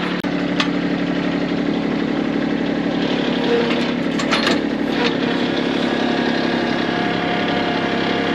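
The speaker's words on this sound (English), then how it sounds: "Now let's go check on the mower." A lawn mower engine runs steadily at idle throughout, a constant mid-pitched drone with a faint rattle of vibration and no speech.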